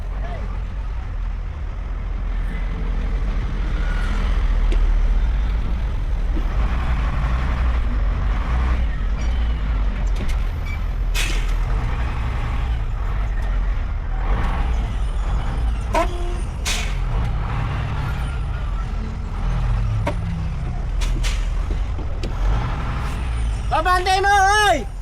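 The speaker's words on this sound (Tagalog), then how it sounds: "Yung ano, sasakyan sa likod!" A truck with air brakes maneuvering behind, a continuous low engine rumble with occasional hisses and clunks over several seconds, while people shout nearby and a voice rises near the end.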